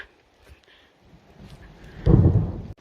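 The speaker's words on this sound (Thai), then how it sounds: "เสียงฟ้าร้อง" A low rumble of thunder rolls in after faint ambient noise, swelling loudly near the end before cutting off abruptly.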